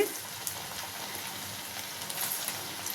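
Chicken pakodi pieces fry in oil over a medium flame, giving a faint, steady crackling sizzle with scattered small pops and no voices.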